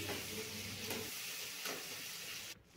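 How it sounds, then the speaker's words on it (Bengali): Cumin and coriander powder with ginger-garlic paste fry and get stirred in oil in a pan for an egg and potato curry, a close, steady sizzle with a few scraping stirs throughout. "ভালোভাবে কষিয়ে নিচ্ছি মশলাটা।"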